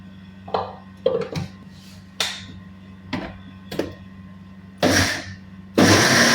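A mixer grinder grinds soaked rice into dosa batter in short, separate pulses, each a sharp whirring burst that cuts off, with the last two bursts longer and louder.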